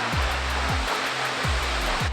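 Dense, unbroken roar of Tews Falls, a 41-metre ribbon waterfall in Hamilton, Ontario, heard from a viewing platform with a few soft low thumps breaking through the steady rush.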